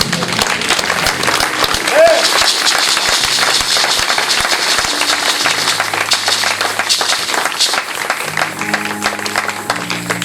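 A church congregation at a special seminar applauding and cheering, a dense steady roar of clapping and voices that carries the whole way through, with music playing underneath.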